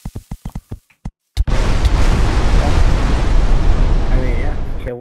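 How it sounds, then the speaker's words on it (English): A TNT cannon detonates in Minecraft Hypixel Skywars, a sudden loud explosive blast after a few short taps, followed by a sustained roaring rumble of debris that fills the rest of the clip. "The TNT cannon? I don't know, dude. Suicide cannon."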